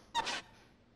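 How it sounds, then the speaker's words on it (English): A doll's joints in the video game Death Mark give a single short creaking squeak, sharp and close, fading quickly into quiet. "A doll's joints creak when they're moved."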